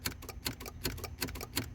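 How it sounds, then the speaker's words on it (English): A quick, regular clicking repeats about three times a second, sharp and mechanical, from a relay in a Corvette Z06 that will not drive, with no talking. "I hear a relay"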